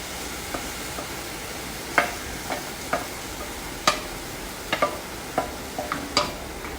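Soaked lentils stirred into a sizzling spice base, with a steady quiet frying hiss and a string of sharp spoon scrapes and taps against the pan, no talking.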